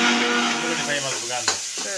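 Frying in a pan while making palak chicken: a brief sizzle sits under a voice that speaks throughout, with a short clatter near the end.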